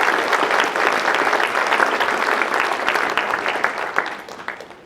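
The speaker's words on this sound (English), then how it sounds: "Ladies and gentlemen, big round of applause" A roomful of people claps steadily at a UCP town hall, a bright, dense patter of applause that holds strong and then begins to thin toward the end.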